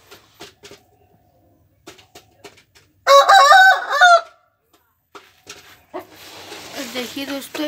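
An aseel rooster crows loudly in the middle, and chickens cluck and call afterward on a rooftop. Quieter knocks and rustling come before it, with no speech.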